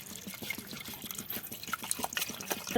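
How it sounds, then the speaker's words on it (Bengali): Water is poured into mashed jujube for a sherbet, giving a soft, close trickling and splashing that grows slightly louder near the end, with no talk. "জল দিয়ে দিছি এখানে"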